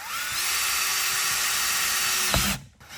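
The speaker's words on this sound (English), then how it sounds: "using a 3/8 inch drill bit, we're going to drill a hole right here" A power drill with a 3/8 inch bit whines steadily at high speed for over two seconds as it bores into a 2021+ GMC Yukon console, then stops abruptly with a clunk.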